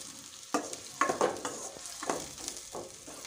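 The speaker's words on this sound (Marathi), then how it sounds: "वाटणसुद्धा छान असं तेलामध्ये मिक्स करून घ्यायचं आहे आणि तेल सुटेपर्यंत छान असं परतून घ्यायचं आहे" A spice paste sautéed in oil over a low flame for a traditional Bhogi vegetable dish, with a soft background sizzle and several distinct scraping stirs of a spoon against the pan at irregular intervals.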